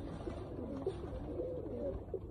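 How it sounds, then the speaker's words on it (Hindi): Pigeons, including a large breeder, coo softly in low, throaty bursts over a constant dense background murmur, with no clear talking. "ये बड़ा ब्रीडर कबूतर है"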